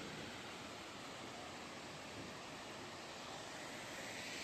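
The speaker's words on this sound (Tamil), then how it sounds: "வந்துருச்சுடா நீர்வீழ்ச்சி." Waterfall near Kodaikanal roaring steadily as a dense, broadband rush of falling water, close and loud throughout with no voices over it.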